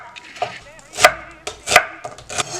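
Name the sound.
knife slicing food on a cutting board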